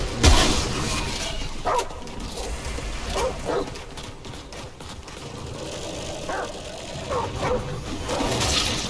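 A dog barks in the Remnant survival game, several short barks and yelps scattered irregularly over a noisy in-game background.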